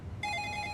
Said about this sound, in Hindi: अरे आईपीएस का फोन।